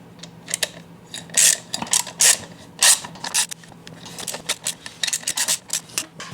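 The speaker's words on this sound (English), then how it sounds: "I'm going to have to switch over to our handheld ratchet here. And get these started." A handheld ratchet clicks in quick irregular bursts while bolts are started on a Bounder motorhome wheel setup, close-up metallic rattling with a few sharper, louder pulls, under a low steady hum.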